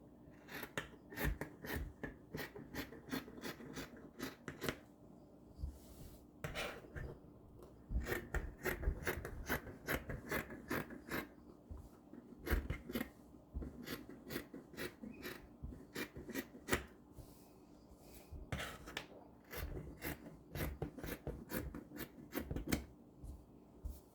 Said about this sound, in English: I'll just cut it out. So cut it out.